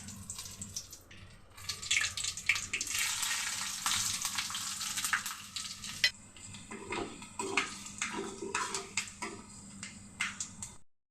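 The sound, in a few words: whole spices sizzling in hot oil for tempering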